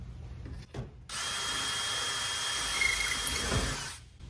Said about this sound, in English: A lot of times when I'm installing these into railings, that thin sheet metal, I like to use a 7/32 bit as opposed to a 1/4 inch